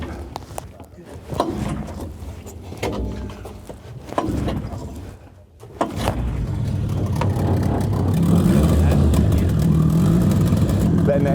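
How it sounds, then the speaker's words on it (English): An outboard-style engine on a speedboat built from an old dumpster, long unused, sputters and catches after a few uneven pulls, then settles into a steady, louder warming idle, with a person talking over parts of it. "Letting the engine warm up"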